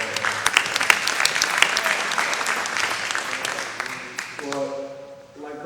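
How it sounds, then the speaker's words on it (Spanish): An audience at a basketball clinic gives Justin Hudson a strong round of applause, with crisp, dense clapping that thins out over a few seconds as a voice begins to speak. "un fuerte aplauso a Justin Hudson"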